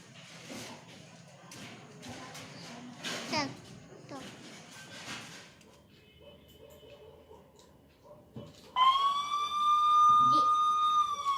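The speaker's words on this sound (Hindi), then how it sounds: "दीदी दीदी एम्बुलेंस आ रही है।" An ambulance siren wails loudly near the end, rising suddenly over a steady background after stretches of children talking and household noise.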